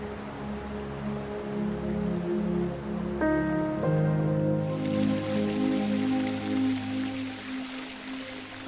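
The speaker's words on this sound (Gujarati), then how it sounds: "સવારથી જ વરસાદ વરસી રહ્યો છે અને ગીરમાં ઝરણાઓ વહેવા લાગ્યા છે." Steady rain falls in Gir forest, a constant broadband wash of drops that turns brighter and denser halfway through, with tonal music playing underneath throughout.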